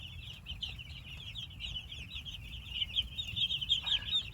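Chicks in a warm brooder with feed and water: a steady chorus of high, rapid peeping from many birds close by, continuous with a low background hum.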